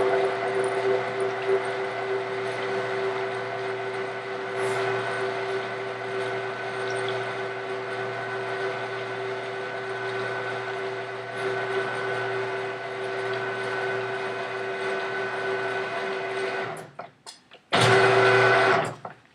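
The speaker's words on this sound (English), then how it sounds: "it's going to cut little ridges so that this can thread right into it" A powered pipe threader cuts threads into metal pipe with a steady, loud mechanical whine and hum that runs continuously, then drops off briefly and surges again near the end.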